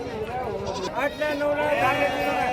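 Sheep and goats bleating amid a busy crowd at the Sangola weekly livestock market, with a dense, continuous din of animal calls and people talking throughout.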